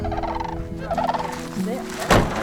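Wild turkeys gobbling and calling at Camas wildlife refuge, a warbling run of calls followed by a sharper, louder burst near the end, fairly close in open outdoor air.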